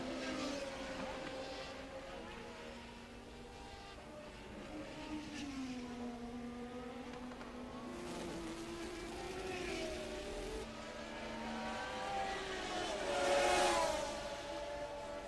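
A 1981 Formula One race car, Patrick Tambay's Theodore, its high-pitched engine note rising and falling through gear changes, with another car's whine joining and swelling louder near the end, heard from a distance.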